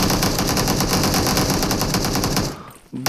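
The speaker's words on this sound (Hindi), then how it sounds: "गोलियां तो काफी ज्यादा चलाई जा रही हैं" Rapid automatic gunfire in the battle royale game BGMI during a tier-one custom match, a dense, loud burst of shots that stops near the end, followed by a short final report.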